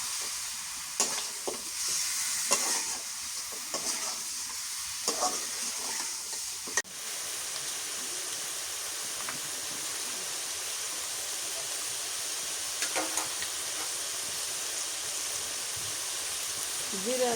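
Food stirred and frying in oil gives a steady hissing sizzle with several scraping, clattering stirs early on, then a softer, even bubbling hiss with an occasional clink.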